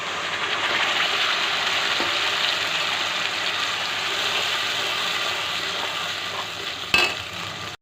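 A paste of ginger, garlic, onion, green chili and tomato fries in a hot pan with a steady, close sizzle and the scraping of stirring, ending in one sharp clatter.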